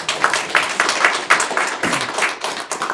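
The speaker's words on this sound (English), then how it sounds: "let's give Jason a round of applause as well" A small audience applauds at a Capitol Hill briefing room event, a sparse, fairly close round of hand claps with uneven rhythm that continues for a few seconds.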